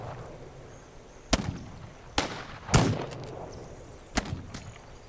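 Enemy gunfire in This Land Is My Land sounds as four sharp, loud shots spaced unevenly across a few seconds, each with a brief echoing tail over low ambient noise.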